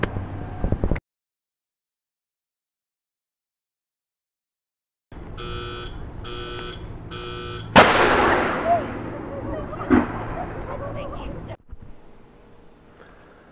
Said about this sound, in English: Warning, this gun fires with a very loud report at 9 p.m. daily.